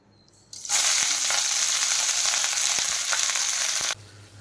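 Slit green chillies and shahi jeera hit hot oil for a Bengali-style pumpkin dish and burst into a loud close sizzle. The hiss holds for about three seconds, with a few pops and crackles, then cuts off abruptly.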